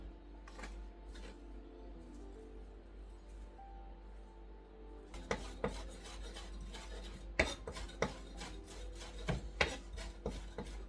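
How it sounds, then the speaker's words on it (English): A knife works through parsley leaves on a board, quiet scraping and rubbing at first, then a run of sharp chopping taps that grow louder and more rhythmic, with no talking. "Have the parsley leaf. I'm gonna cut them."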